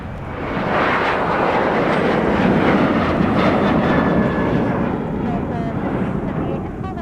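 Jet aircraft taxiing at MSP airport in winter, heard as a loud, steady engine roar close by that eases slightly toward the end.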